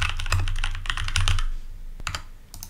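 Fast typing on a computer keyboard while entering a Python install command, with dense close clicks in bursts and a short pause before a few final keystrokes.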